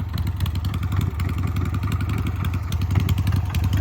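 A Shovelhead engine on a hardtail chopper with an open chain-drive primary runs steadily nearby, loud and lumpy with a rapid, uneven thumping idle throughout.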